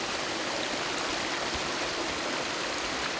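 Near-freezing stream of water used as an outdoor water source, a constant broadband rushing and gurgling, close and fairly loud with no pauses or voices.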